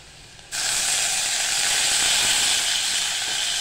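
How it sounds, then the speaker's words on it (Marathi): Chopped ripe tomato hits a pan of reddish-browned fried onions for mixed dal khichdi, setting off a sudden, loud, steady sizzle that holds on without pause. "आता आपण टोमॅटो टाकतोय."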